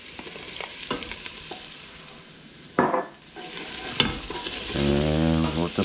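Garlic and mushrooms fry in a pan for spaghetti sauce, with a steady close sizzle and a few scraping stirs and clunks against the pan.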